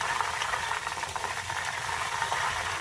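Curry leaves frying in hot oil alongside other ingredients for a hair-growth oil give off a steady, even sizzling hiss throughout, with no talking.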